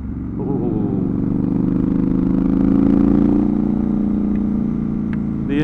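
A Triumph Scrambler 1200XE motorcycle engine runs with a loud, steady, deep twin-cylinder throb, rising slightly in pitch mid-ride and then easing, heard close under wind noise.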